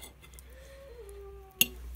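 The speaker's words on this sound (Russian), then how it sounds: "Это у нас кот-любитель стейков." A cat in a home kitchen, where steak is being cut, lets out one faint, drawn-out meow, then a brief sharp click. Low room hum sits underneath and no one speaks.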